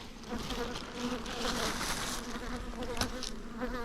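Honey bees buzz steadily around nucleus hives set behind other hives in a yard, forming a dense, continuous close drone with no talking.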